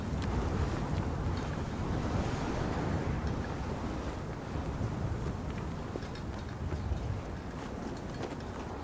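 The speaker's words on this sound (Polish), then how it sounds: "Na razie tylko wiatr." Wind blows across a highway area in Call of Duty Modern Warfare 3, a steady, moderate rushing noise with no talking.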